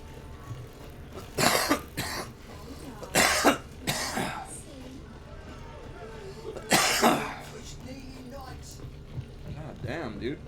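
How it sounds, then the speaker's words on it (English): A man coughs in several close, loud bursts, separated by quieter stretches with a low steady hum from a computer setting. "As soon as I get on the computer, it's like I'm just coughing."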